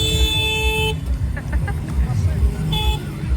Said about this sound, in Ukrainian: Так, тут така сигналка.